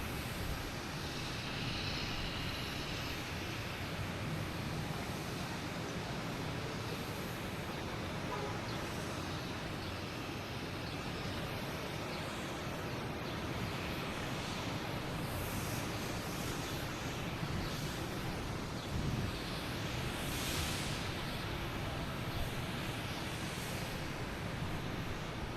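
A WestJet airliner arriving from Vancouver at Boston Logan, a broad, continuous engine roar that stays steady and fairly loud throughout, blended with low rumbling background noise and a faint voice.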